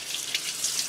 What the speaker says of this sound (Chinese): 清洗一下，